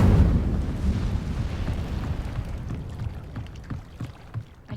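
A fiery burst from the Incendio spell in Hogwarts Legacy roars up loudly at the start, then a crackling, rumbling flame trails off over several seconds with scattered pops.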